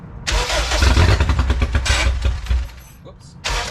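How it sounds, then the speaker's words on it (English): A K20-swapped Honda EF sedan's engine cranks and catches, then runs at a loud, rough idle close by, dipping briefly near the end before surging again, with voices talking over it. "The car just turned on and it idled on its own."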